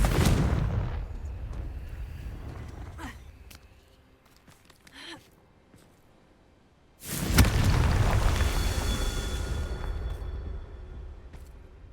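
Confringo blasting spells go off in Hogwarts Legacy, with a loud booming burst at the start, a quieter thump in the middle, and a second heavy explosion that rumbles on and fades slowly.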